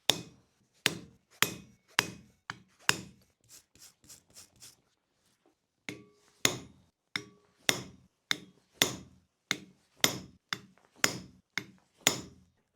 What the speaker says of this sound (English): take a chisel and split the horns